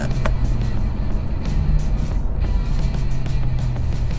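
A 2015 midsize sedan engine pulling hard through a 0-60 mph acceleration run, a steady, loud low-frequency drone with road and wind noise that holds throughout without speech.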